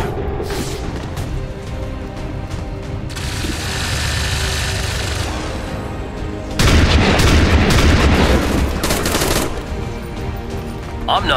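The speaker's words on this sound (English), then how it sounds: "I'm taking too much fire!" Sustained gunfire rattles through a firefight in XCOM 2: Long War 2, bursts of shots and booms that swell louder in the second half, with dense combat noise throughout and no voices.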